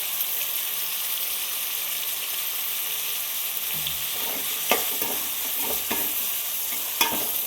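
Ingredients sautéing with salt in a pan for paruppu urundai kuzhambu, a steady sizzle throughout with a few scraping stirs toward the end.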